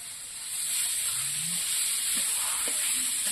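Cumin paste sizzles steadily in a hot pan as part of an ash gourd ghonto, a continuous bright frying hiss that holds even and fairly loud throughout with a few faint clinks of stirring.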